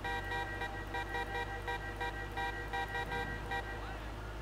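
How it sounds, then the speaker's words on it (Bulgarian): Repeated short car horn toots in a regular stuttering rhythm, fairly close and loud over a steady engine hum, with a voice talking intermittently underneath. "Ей, как обичам да свира с клаксон, наистина."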